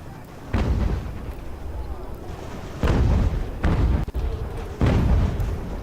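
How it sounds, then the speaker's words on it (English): Cannon artillery fire from a video game battle in Ultimate General: American Revolution, with loud booming blasts at about 0.5, 2.8, 3.6 and 4.8 seconds over a constant rumbling battlefield din. "Oh, good shooting there, cannons."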